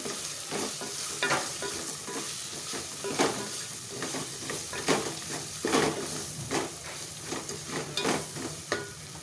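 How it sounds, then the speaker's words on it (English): Coriander and turmeric powder being stirred into a black chana curry in a hot pan: continuous close sizzling broken by repeated scraping and clinking strokes of a spoon against the pan, with no talking. "And into this, I'll put in the coriander powder and haldi powder together. Stir it well."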